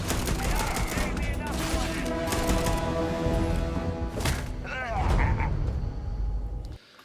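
Shotgun blasts and combat noise in the Starfield video game, a rapid series of loud bursts under excited talking, with a couple of heavier reports near the end.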